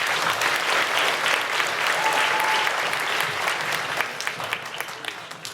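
Audience applause at an elementary school Veterans Day program, a full, steady wash of clapping that thins out near the end into scattered individual claps.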